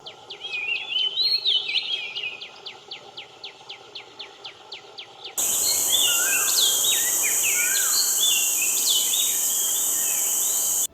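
Oriental magpie-robin singing in a rapid series of clear whistled notes, then varied melodious phrases over a steady background of insect or cricket hiss, fairly close, with no talk.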